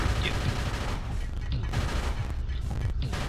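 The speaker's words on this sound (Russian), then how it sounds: "Это он издает звуки, перезаряжая свой автомат" Rapid mechanical clatter from an enemy reloading a machine gun in the sci-fi shooter Descent 3, a dense, steady burst of metallic rattling with repeated sharp pulses filling the whole short stretch at moderate loudness.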